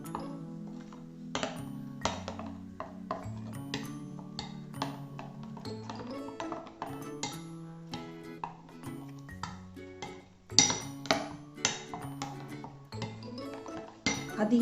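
A spoon clinks steadily against a bowl or pot while yogurt and salt are mixed into a ginger curry. The bright taps come repeatedly and close by, under a low musical hum.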